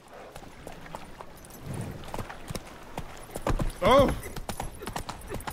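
Roach, the horse in The Witcher 3, gallops with a steady rapid clip-clop of hooves throughout, briefly joined by a whinny near the end, while someone speaks over the hoofbeats.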